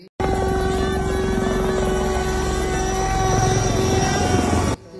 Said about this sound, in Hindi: ये वीडियो में भी आप देख सकते हो जो ऊपर से हेलीकॉप्टर गया है फूल बरसा के